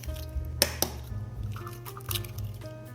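Two eggs dropped into a large mixing bowl for oat carrot muffin batter, with a couple of sharp cracks and wet squishy plops, then soft liquid sloshing, close and quiet.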